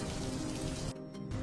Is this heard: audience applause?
no